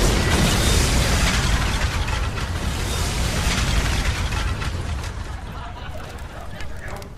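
A house gas explosion sound effect in a French comedy: a loud, sustained broadband roar and rumble of blast and debris that slowly tapers off over several seconds.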